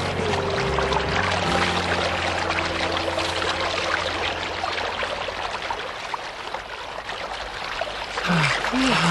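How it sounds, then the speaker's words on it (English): Water from a stream flows and pours in a steady broadband rush, close and loud, with music underneath and a short cartoon voice sound near the end. "We're very near the stream now."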